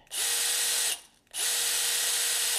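A DeWalt multifunction cordless screwdriver's motor whirs at a high pitch in two runs separated by a brief pause, loud and close with no talking.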